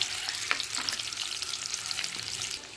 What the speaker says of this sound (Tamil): முட்டை நல்லா கலர் கொஞ்சமாக லைட்டாக சேஞ்ச் ஆகி வர வரைக்கும் நல்லா